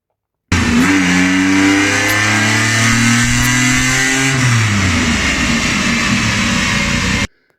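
A Vauxhall Corsa fitted with a turbocharged V6 and DSG gearbox, running Mega Squirt management, revs loudly and close, climbing through the rev range and then holding a rough, droning engine note before cutting off abruptly.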